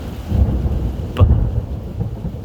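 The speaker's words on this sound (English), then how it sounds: "you hear that, right? That means that like multiple bolts of lightning hit the fucking ground" Thunder rolling through a storm, a low continuous rumble with a sharp, louder crack near the middle as lightning strikes close by, with rain faintly underneath.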